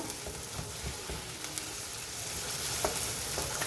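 Tomato paste sizzling and frying in a pan while being sautéed for a Turkish bean stew, a steady close crackle with small pops, no talking.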